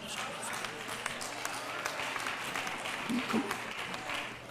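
A church congregation claps and applauds through a sermon, a steady wash of many hands filling the room at a moderate distance, with a preacher's voice briefly rising over the crowd.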